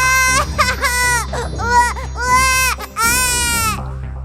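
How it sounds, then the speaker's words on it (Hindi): A baby girl cries loudly in a cradle, in repeated rising and falling wails broken by short gasps, close and sustained, with a low hum underneath. "पालने में रखते ही बच्ची जोर जोर से रोने लगी"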